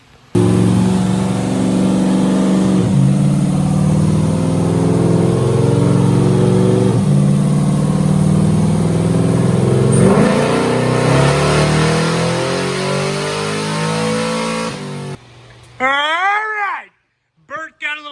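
Car engine on a dyno with a 100 shot of nitrous, revving loud and close through rising gear pulls with harmonic whine, then cutting off as people talk at the end.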